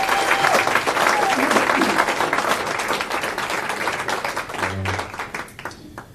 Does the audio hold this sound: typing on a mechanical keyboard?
no